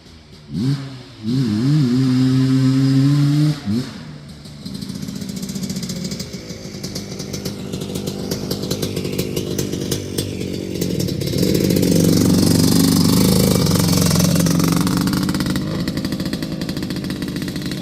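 A Honda TRX250R ATV, running an engine swapped in from an ATC250R, revs and drones as it rides around nearby, rising and falling through throttle changes with a sustained buzzing two-stroke note.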